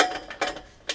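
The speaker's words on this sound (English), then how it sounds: "So I'm gonna go ahead and start unbolting that right there." Socket wrench with a 14mm socket ratcheting on a car exhaust bolt of a Subaru WRX, giving three short close bursts of clicking within about a second.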